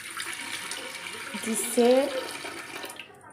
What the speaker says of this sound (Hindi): अभी मैं डाल रही हूँ इसमें थोड़ा सा पानी,